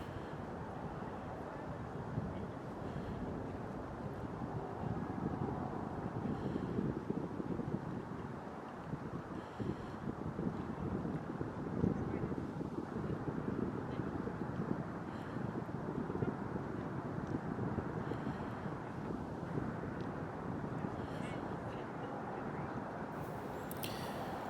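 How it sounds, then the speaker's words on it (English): Wind blows across a snowy river bank, a low, steady rumble and buffeting against the microphone that continues quietly throughout with no other distinct sounds. "So mostly you would just hear the wind"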